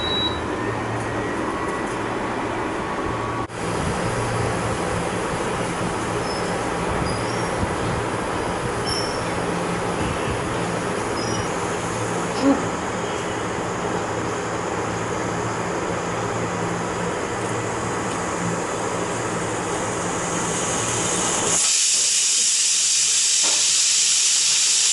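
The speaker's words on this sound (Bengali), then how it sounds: "দুটো সিটি ফেলে নেব।" A pressure cooker cooking chole on a stove releases a long, steady hiss of steam that carries on almost unbroken, then shifts to a higher, sharper whistle near the end.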